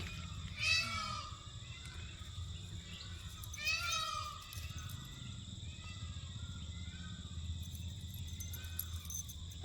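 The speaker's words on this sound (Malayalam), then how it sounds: "മയിലുകൾ കരയുന്നു" Peacocks calling outdoors: two loud, wailing cries a few seconds apart, set against a steady hum of insects and low background noise.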